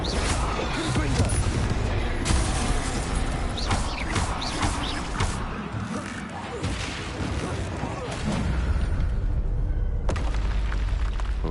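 Confringo blasting curse explosions from the Hogwarts Legacy video game, dense booming blasts in a loud continuous game-combat mix, with voices shouting spells over it.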